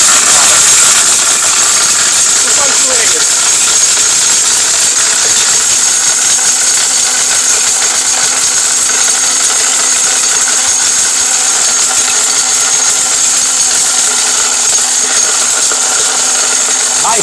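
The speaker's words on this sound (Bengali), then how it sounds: "তুফান ব্লেন্ডার, এটা তুফান, একদম ঘূর্ণিঝড় চলতেছে ভিতরে" A high-power blender grinds turmeric, a loud steady whirring roar with rattling that runs continuously and close throughout, with no pauses.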